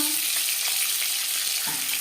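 Rui fish head frying in hot oil in a kitchen, a steady, dense sizzle and crackle running unbroken from start to end, close and fairly loud.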